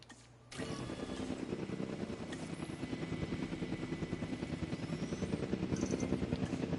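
Helicopter airlifting a dinosaur in Jurassic World Evolution 2, a steady rhythmic rotor thump that kicks in abruptly and builds slightly louder over several seconds, a little muffled.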